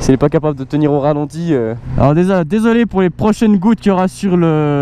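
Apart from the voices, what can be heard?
None of the usual background noises is heard.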